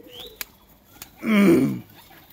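A pigeon gives one short, close cooing call after a couple of faint clicks, against quiet surroundings.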